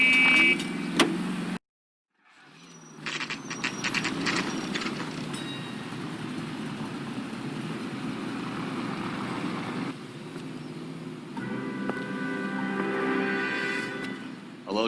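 A car driven in L.A. Noire, with a steady engine and road rumble that drops out briefly near the start, then continues evenly at moderate volume with faint clicks and mechanical noises.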